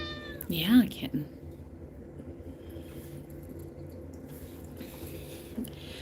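A kitten gives a single clear, rising-and-falling meow near the start, with a second shorter cry just after, against a quiet indoor room background; a voice speaks softly nearby.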